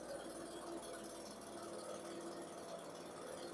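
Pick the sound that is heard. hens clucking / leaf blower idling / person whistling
leaf blower idling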